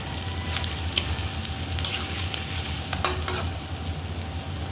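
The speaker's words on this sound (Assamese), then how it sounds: "এতিয়া আদা নহৰু পিঁয়াজ জলকীয়া ভজা হৈ গ'ল।" Onion, ginger, garlic and hot chili frying in a pan, a low continuous sizzle with occasional spatula scrapes and stirs, close and alone without talk.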